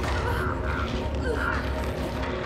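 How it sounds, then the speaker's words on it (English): Crows cawing around the player in the Dead by Daylight video game on the Rancid Abattoir map, two harsh, rasping calls over a steady ambient game drone. "I can see the crows are like around you."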